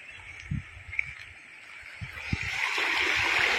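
River water flows and trickles near a highway bridge, a steady wash that swells louder toward the end, with a few soft splashes and knocks.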